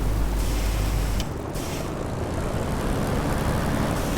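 Video game aircraft engine passing overhead near a runway, a loud continuous propeller drone that dips briefly, then holds steady as it roars past.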